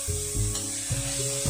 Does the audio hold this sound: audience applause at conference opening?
no